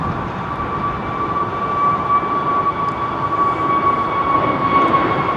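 A jet airliner taking off at London Heathrow Airport, its engines giving a loud, steady, sustained roar throughout.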